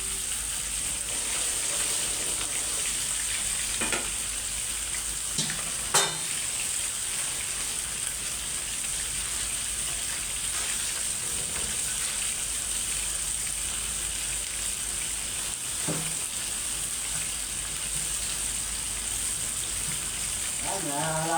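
Garlic and onion fry in a pan while fish is being cooked, giving a steady, even sizzle that runs the whole time, with a few faint clinks of stirring.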